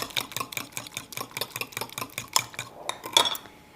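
Baking powder and white vinegar are whisked together in a bowl for a Texas sheet cake, a quick run of rhythmic clinking strokes against the bowl, close and alone, slowing near the end.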